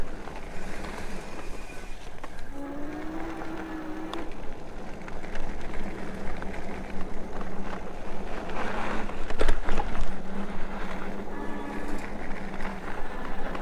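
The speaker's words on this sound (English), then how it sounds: "I'm gonna shut up for a little bit so you can hear it kind of ride over some bumps and hear any noises" An Engwe M20 electric bike rides over bumps outdoors, with a continuous rumble and wind noise, occasional rattles and clunks from the frame, and a faint motor whine rising at times.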